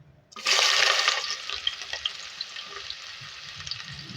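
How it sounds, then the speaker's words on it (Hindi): Onions and green chillies dropped into hot oil burst into a loud hissing sizzle that peaks at once and then settles into softer crackling. "अब इसके अंदर मैं प्याज ऐड करूँगी तो मीडियम साइज़ की और हरी मिर्चें कटी हुई।"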